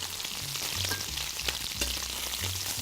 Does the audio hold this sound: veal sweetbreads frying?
yes